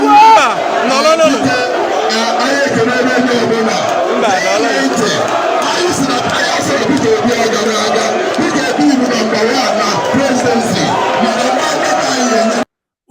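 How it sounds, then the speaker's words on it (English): A large crowd at a Nigerian political rally chants for Peter Obi, a loud, continuous mass of voices with rhythmic shouting and cheering that carries on without pause. "Una dey hear the crowd, they say Obi."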